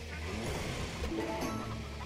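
Soft clucking of chickens in the game Farm Together murmurs in the background, faint and steady, with a low hum underneath.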